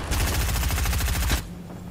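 Rapid automatic gunfire sprays in Fortnite, a fast regular burst of shots lasting over a second before cutting off sharply, loud and alone without voices.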